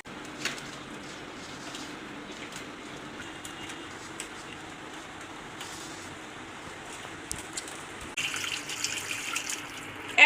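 A tap runs steadily as hands are rinsed after mixing fish for cooking, a soft continuous splash close by that grows brighter and louder near the end.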